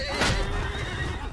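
A horse neighs in the medieval battle game Mount & Blade 2, one loud whinny rising near the start and trailing off over a busy backdrop of battle noise and hoofbeats.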